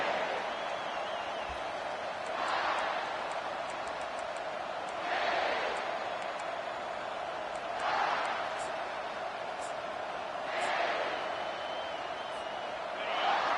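Stadium crowd at a college football game between Carolina and Washington, a broad roar that swells and fades in rhythmic chant-like waves every few seconds, fairly distant and steady underneath.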